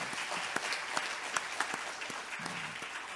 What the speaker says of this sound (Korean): 감사의 박수 한번 하십시오.